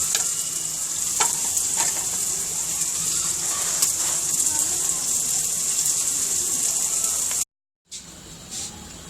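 Besan tikki batter with chopped onion, tomato and dry spices being stirred and mixed in a bowl, a steady wet sizzling-like churn throughout, close and continuous, cutting out briefly near the end.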